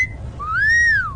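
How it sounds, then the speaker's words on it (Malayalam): A single clear whistle sweeps upward, holds, then falls away, loud and close over a low background hum, with no talking. "വിസിൽ വിഴുങ്ങിയ"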